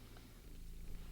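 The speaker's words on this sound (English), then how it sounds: "I know he's a loud purr, but this seems louder than usual." A cat purrs close by, a low, continuous rumbling vibration that holds steady and soft for about a second, with no one talking.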